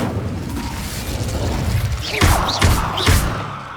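Fire spell blasts in the game Hogwarts Legacy land as three heavy whooshing thumps in quick succession over a dense, rumbling game background, close and loud.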